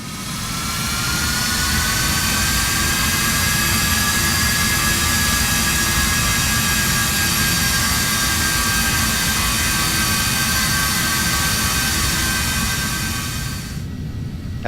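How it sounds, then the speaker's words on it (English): Embraer Phenom 300 jet engines in a flight simulator game, a loud, steady turbine roar with a high whine that holds constant while taxiing, cutting off sharply at the end. "We'll release our brake and taxi for departure."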